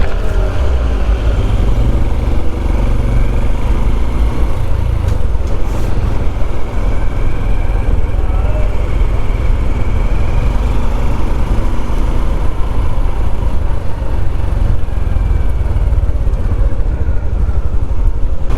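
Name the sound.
Honda CT125 motorcycle riding through London streets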